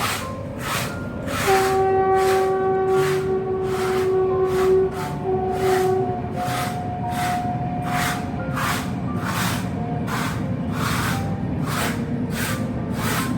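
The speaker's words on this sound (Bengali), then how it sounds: "দেখতে পাচ্ছেন দূরে ওই তালগাছটার সামনে দিয়ে ট্রেনটা যাচ্ছে" Train passing in the distance in an outdoor rural setting, a long horn blast early on over steady rumbling and a regular rhythmic clatter of wheels on rail joints, no voices.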